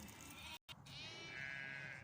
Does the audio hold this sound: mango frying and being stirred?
no